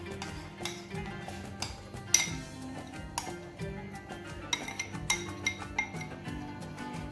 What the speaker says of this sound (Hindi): ये डालकर हम इसको अच्छे से मिक्स कर लेंगे।